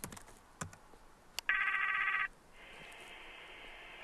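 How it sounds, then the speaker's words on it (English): Ringing of an outgoing video call placed through a BGAN satellite terminal's video application: a steady electronic ring tone sounds for under a second, then a quieter sustained tone follows, preceded by a few faint clicks. "I simply have to open the application and dial Lee's number"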